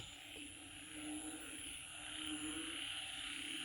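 Frogs chorus through the night over rice fields in rural Isan, a faint, steady mass of distant croaking and trilling with a constant insect-like hum, no voices.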